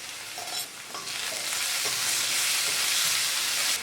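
Crushed shallots and curry leaves sauté in hot oil in a pan while drying prawns are fried, giving a steady, close sizzle with light stirring scrapes that swell after the first second and hold loud to the end.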